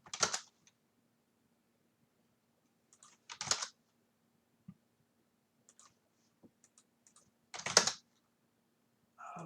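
Frantic computer-keyboard typing comes in quick, close bursts of clicks separated by short pauses, with scattered single keystrokes over otherwise quiet background.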